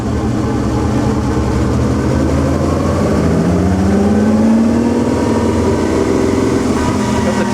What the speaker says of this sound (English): Nothing like the 12-cylinder sound.